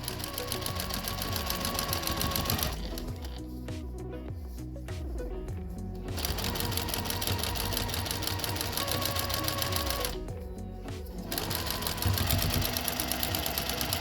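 Sewing machine stitching fabric for a face mask cover, a close, loud, steady mechanical whir with rapid needle rhythm, pausing briefly twice before running on.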